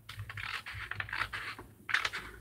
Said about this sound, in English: we're going to take our scissors and we're going to cut down these score lines right here on the bottom